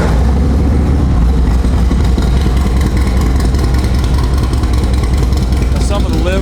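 A 2005 Harley-Davidson Dyna Wide Glide FXDWG V-twin engine runs steadily, a loud close low rumble that holds for the whole stretch with a little mechanical clatter on top.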